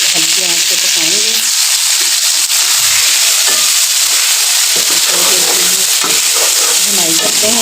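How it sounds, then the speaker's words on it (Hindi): Boneless chicken pieces in masala with little oil fry on low heat, giving a continuous loud sizzle with scraping stir sounds, while a voice talks over it in places. "उसको हल्की आंच पे पकाएंगे"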